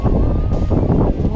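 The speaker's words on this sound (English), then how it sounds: "How freaking cold and windy it is." Cold, strong wind on the Oregon coast near Haystack Rock buffets the microphone as a steady, loud, low rumble with gusty swells throughout.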